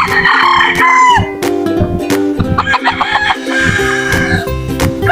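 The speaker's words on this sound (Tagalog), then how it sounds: "Malaking manok yan mga idol." Large native chickens clucking close by, with a rooster crowing loudly more than once; busy, overlapping fowl calls with no talking.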